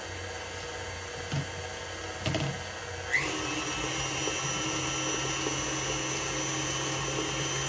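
Sweet potato cake batter being mixed with an electric mixer in a home kitchen, a steady whirring motor hum that starts abruptly partway through after a few soft clunks and continues unbroken.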